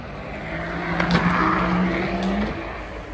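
A car's front motor pulls hard under acceleration, giving a steady, loud, close engine and road roar with a brief tire-squeal edge, no voices.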